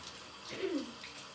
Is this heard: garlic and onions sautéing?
no